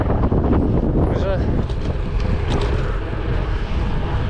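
A strong headwind buffets the microphone while cycling along the coast toward Rewa, a loud, continuous rumbling roar that runs through the whole stretch.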